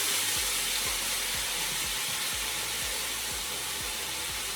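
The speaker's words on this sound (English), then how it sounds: "in the pot, you're gonna hear a nice little sizzle." Steady broadband sizzling hiss of potatoes frying in hot olive oil in a pot, continuous and fairly loud, with low rhythmic thumps underneath.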